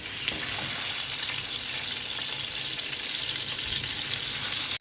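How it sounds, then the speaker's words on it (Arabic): Pigeon frying in ghee seasoned with black pepper and salt, a dense, steady close-up sizzle and crackle that runs unbroken, with no talking. "معلقتين سمنه بلدي كبار حلوين، هضيف فيهم رشه من الفلفل الاسود، رشه من الملح، وهحط فيهم الحمام يتحمر."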